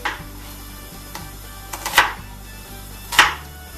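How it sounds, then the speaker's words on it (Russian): A knife chops onion on a cutting board in a few irregular, sharp knocks, two of them louder, over a quiet kitchen background. "Лук нарезаем произвольно."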